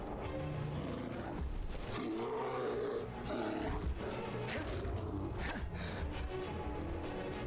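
A bear roaring in the video game Skyrim, a loud, rumbling, sustained growl lasting several seconds with bursts of intensity over ambient game sound.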